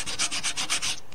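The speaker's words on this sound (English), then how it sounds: "it's just a case really of sanding them up and cleaning them up a bit" Sandpaper rubbing rapidly back and forth on a model railway layout's point slots, about eight quick strokes close up in a quiet room.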